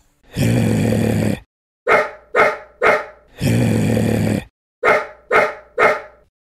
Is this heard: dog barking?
yes